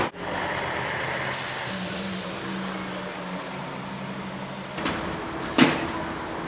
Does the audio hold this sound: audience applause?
no